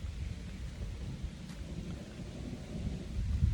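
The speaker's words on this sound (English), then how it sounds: "you can hear the rain starting to sort of dry" Rain begins falling outdoors on the Appalachian Trail near a tent, a soft, steady hiss with low rumbling beneath it that grows slightly toward the end.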